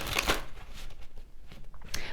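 Brisk riffling of tarot cards being shuffled, a quick burst of papery flutters near the start and again at the end, close up with no talking.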